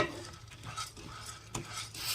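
Washed, damp rice being stirred and dry-roasted in a pan, a spoon scraping and rattling the grains in uneven strokes with a faint sizzle underneath, fairly quiet and close with no talking.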